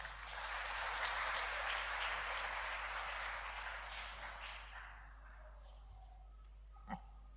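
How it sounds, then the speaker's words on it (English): Audience applause at a Oneness samagam gathering in Glasgow, a broad wash of clapping that swells early, then fades out gradually over several seconds, ending with a single sharp knock. "Please give Sukhjinder Ji a round of applause"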